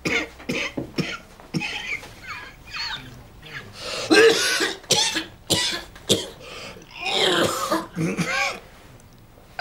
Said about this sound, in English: How long have you been coughing like this?